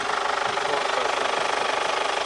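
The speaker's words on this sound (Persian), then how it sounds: "این حالت کار کردن ماشین دوستان" A diesel engine runs steadily at idle, a loud, even mechanical clatter with a fast regular knock and no pauses.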